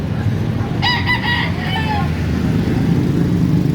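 A rooster crows once, its harmonic call rising then trailing off, somewhat distant over steady traffic rumble and background murmur on a street corner where roosters are sold in Calbayog City, Philippines.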